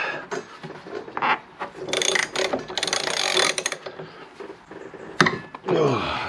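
Ratchet with a 19mm socket working loose the front wheel spindle of a Peugeot Django scooter, giving close, rasping clicks in short bursts amid metallic handling and scraping noises.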